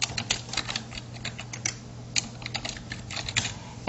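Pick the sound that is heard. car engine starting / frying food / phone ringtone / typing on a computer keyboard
typing on a computer keyboard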